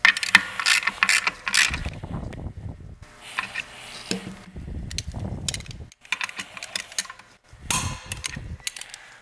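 A hand ratchet clicks in quick bursts as the cover bolts of a RAM billet drag racing clutch are tightened back down and retorqued, several separate runs of sharp pawl ticks with short pauses between them, close up and with no talking.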